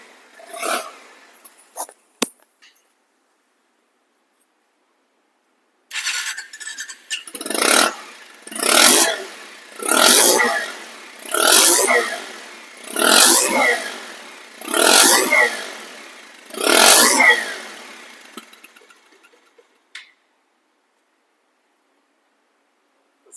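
A second-hand 2021 Bajaj Pulsar motorcycle engine being revved in short, evenly spaced bursts, about seven loud throttle blips close by, preceded by a few brief clicks and knocks.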